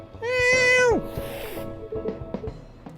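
A cat in the video game Coffee Talk 2 gives one clear, loud, drawn-out meow that falls away at the end, followed by quieter soft game sounds and ambient tones.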